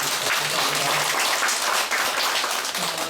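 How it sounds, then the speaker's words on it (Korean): An audience at a lecture on multicultural society and etiquette, held in a lecture room, gives a dense, steady burst of applause, loud and close, with many hands clapping continuously and no break. "큰 격려 박수 한번 감사합니다."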